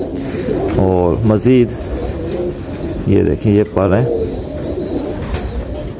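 A pigeon held in a hand coos in soft, low, throaty bursts, clearly heard under a man's close-up speech, with faint chirping birds in the background.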